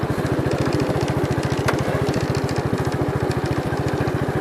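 A 1967 Gravely 430 tractor's small engine runs steadily close by, its rapid, even firing pulses thumping like a mower or motorcycle at a constant idle-to-mid speed, loud and alone.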